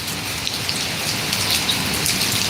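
Steady rain falls in a Malaysian village, an even close hiss of drops hitting surfaces that continues unbroken throughout.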